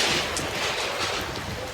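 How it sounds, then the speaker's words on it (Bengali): Rain falling at night with wind in Balihar para village, a dense steady hiss filling the moment without any voices. "আর কত বৃষ্টি পড়ছে, আর উপরে হাওয়া আছে আজকে"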